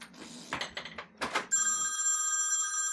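A telephone starts ringing indoors with a steady, bright electronic ring that carries on alone after a brief stretch of soft rustling and movement.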